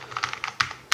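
Fast, crisp typing on a Cooler Master SK621 portable keyboard, a run of close, sharp key clicks in an uneven rhythm with two louder strikes near the end, heard alone without talk.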